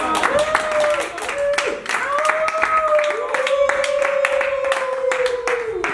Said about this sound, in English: all give a round of applause. for that.